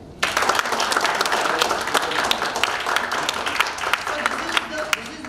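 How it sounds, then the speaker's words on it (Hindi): Audience applause at a speech-training event hosted by JCI Nagvidarbha, with dense clapping and a few sharp individual claps standing out, continuous and fairly loud from start to finish. "ताली हो जाए।"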